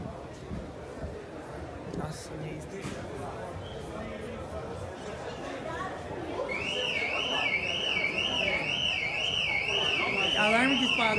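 A car alarm sounds at a lowered and vintage car show, with repeating warbling electronic tones rising over a noisy crowd of chatter for the second half.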